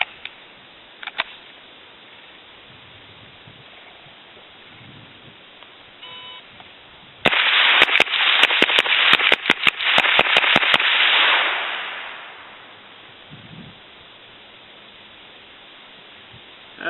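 Unsuppressed rifle shots from a 1-5 drill ring out as a quick burst of about six sharp, loud cracks within a few seconds, set against quiet outdoor background.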